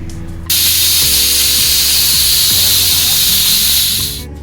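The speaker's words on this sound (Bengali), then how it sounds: "কুকারটা এবার বন্ধ করে দিলাম, একটা সিটি দিবে" A pressure cooker cooking broken wheat khichdi lets out one loud, sustained whistle of venting steam. The whistle cuts in abruptly and holds a strong hiss with pitched tones before it tapers off at the end.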